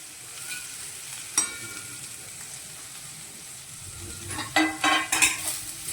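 Capsicum and chopped vegetables for spring roll filling fry in a pan with a touch of asafoetida, a steady close sizzle broken by scraping stirs, with louder clinks of a spoon on the pan near the end.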